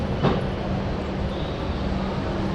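The Chambal Express pulls out of Dhanbad station on its Howrah to Agra Cantt run, a steady low rumble of moving carriages with a brief louder knock near the start, continuous and fairly close, with no voices.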